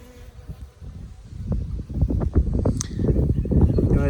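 Honey bees swarm and buzz in an opened beehive, the drone swelling from quiet to a loud, dense hum close by, with handling noises underneath.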